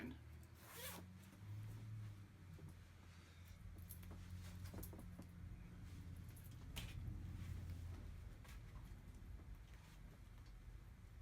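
Zipper on a Patagonia R3 fleece hoody handled over several seconds, with scattered close rasps and clicks of the pull and fabric rustle under quiet surroundings.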